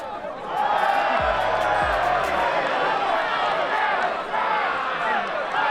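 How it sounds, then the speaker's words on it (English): Dense crowd noise from football fans at a London cup final between Trabzonspor and Hatch Lane, a steady roar of many voices close around, with a couple of low thumps early on. "As the crowd make noise"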